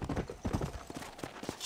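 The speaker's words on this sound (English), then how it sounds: "Just a regular horse." A horse's hooves clip-clop in a quick, uneven run of close, distinct strikes, with no talk over them, amid the zombie-infested frontier of Red Dead Redemption: Undead Nightmare.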